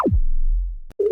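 A synthesized sci-fi laser zap made from filtered noise sweeps rapidly downward into a deep rumbling tail, then after a brief gap a sharp click is followed by a bright sustained tone, loud and alone.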